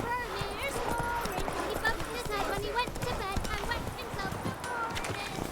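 Horse hooves galloping in The Witcher 3, a steady clip-clop rhythm running throughout alongside game music and ambience, with a person talking over it.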